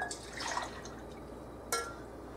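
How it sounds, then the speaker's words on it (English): Melted shortening poured into a cup, with a soft liquid trickle and light dripping at the start, then a brief sharp clink of the container partway through, all quiet and close. "I'm going to pour it in my cup."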